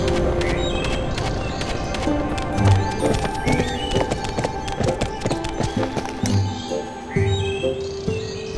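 Foal hooves clip-clopping with whinnies in the Barbie Horse Adventures: Wild Horse Rescue PS2 game, steady hoofbeats over a continuous bed of game music, with faint bird chirps on a trail.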